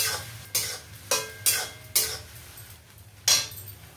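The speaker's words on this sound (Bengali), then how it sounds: "সয়াবিনটা আমি এবারে ভেজে নেব।" Soybean chunks frying in white oil in a pan, stirred in about six distinct scraping strokes over a steady low sizzle, close and fairly loud with brief gaps between strokes.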